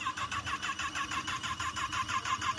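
A Kawasaki ZX-10 sport motorcycle engine cranks and catches, settling into a steady, pulsing idle with a rhythmic mid-pitched throb, heard nearby and fairly quiet, with no talk.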